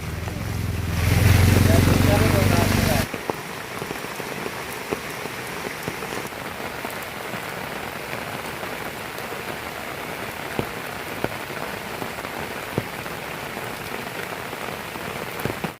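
Heavy monsoon rain falls steadily over rice fields in Lanja, a dense hiss with scattered drops, after a brief loud rumble at the start.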